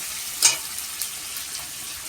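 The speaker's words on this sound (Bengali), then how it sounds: "আমরা এই গুঁড়ো পেঁয়াজটা ভালো করে লাল লাল করে ভেজে দিচ্ছি" Chopped onions fry in oil in a pan until reddish-brown for a chicken dish, producing a steady soft sizzle with a few brief stirring scrapes, close and alone.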